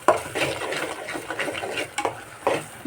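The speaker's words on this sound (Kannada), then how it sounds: "ಇದೆಲ್ಲ ಹೀಗೆ ಕ್ಲೀನಾಗಿ ಅಗಲಾಡಿಸ್ತಾ ಇರಬೇಕು, ಇಲ್ಲ ಅಂದರೆ ತಳ ಹತ್ತಿಬಿಡುತ್ತೆ" Spoon stirring okra sambar in a cooking pot, a steady run of soft scraping and sloshing strokes with a few sharper clinks against the metal, close and alone.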